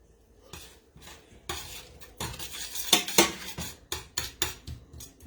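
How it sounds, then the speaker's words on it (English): Metal spoon scraping and clinking against a pan while Thai curry coconut shrimp is stirred, irregular close knocks and scrapes in bursts with brief pauses between. "We're going to stir this all in together."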